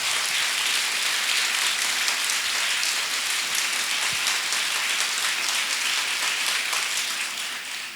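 Audience applause at a Telugu Christian sermon event, a dense continuous clapping wash that fills the whole stretch at a steady level and tapers slightly at the end, with no talk over it.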